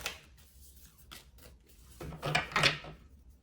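Tarot cards being shuffled by hand in a quiet room, with a few soft riffles and rubs followed by a louder flurry of card-edge flutter near the end.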